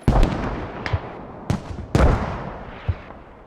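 Mortar fire in the military shooter Squad during a 20-versus-20 match on the Kohat map: several sharp booming blasts in irregular succession, some near and loud, others duller and more distant, each trailing off in a rumbling echo.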